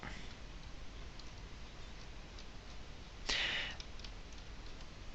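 A single crisp computer mouse click, heard close and fairly faint over a steady low hiss in a quiet room.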